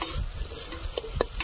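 Oil-fried chicken pieces are stirred with spices in a pan, a short burst of scraping and sizzling with two quick utensil knocks near the end.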